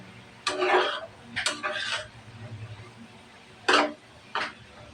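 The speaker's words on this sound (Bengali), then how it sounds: "দিয়ে দেবো আলু কুচি, লবণ, হলুদের গুঁড়া, ধনিয়া গুঁড়া, মশলার সাথে ভালোভাবে মিশিয়ে নেব" Chopped potatoes with salt, turmeric and coriander powder stirred in a pan after onions are fried, heard as a few sharp scraping and clanking bursts of a spatula against the pan over a low background hum.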